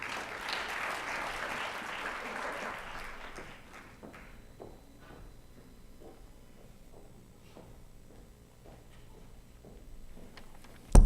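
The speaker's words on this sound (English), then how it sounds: "so give him a round of applause, please." An evening audience at an oratorical contest reception applauds a student contestant, a burst of clapping that fades after a few seconds into sparse scattered claps and small knocks in a quiet room.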